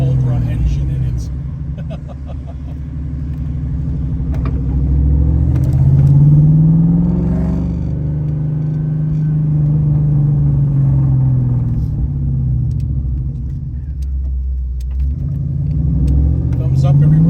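A 1992 Ford Mustang notchback with a 32-valve Cobra engine drives along, its low engine rumble rising and falling steadily under continuous talking.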